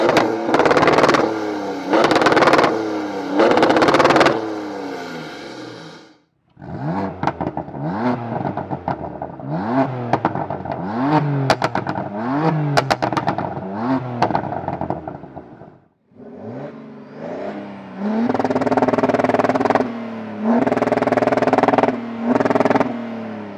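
Three BMWs take turns revving their engines in bursts, with sharp barks, crackles and pops between the pulls. The cars are a 425 hp 435d xDrive diesel, a 480 hp M4 petrol and a 455 hp 430d diesel, and each sequence is separated by short pauses.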